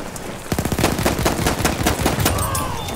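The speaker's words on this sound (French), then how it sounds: "Il y a des balles qui fusent." Battlefield 1 gunfire bursts into rapid automatic shots, a dense, loud rattle that carries on for a few seconds against battlefield noise.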